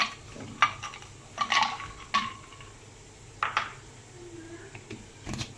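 Ice cubes dropped into plum juice in a shaker give several sharp, scattered clinks and knocks at irregular intervals over a faint, quiet background.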